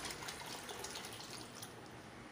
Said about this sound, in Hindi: पानी मैं इसमें ज़्यादा डाल रही हूँ